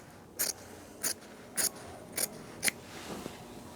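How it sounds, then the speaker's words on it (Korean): Scissors snip through the fabric of a 1950s Christian Dior jacket hem, five crisp separate cuts spaced about half a second apart, close and clear against a quiet room. "2, 3cm 남겨주고 잘라줍니다"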